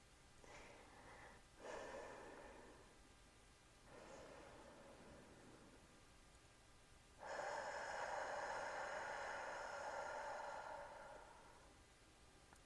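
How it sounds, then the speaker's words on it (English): Slow, deep breaths during a quiet guided meditation: soft inhales and exhales rise and fall, ending in a longer, fuller breath near the close, all faint and close with no talking. "5 deep breaths with me"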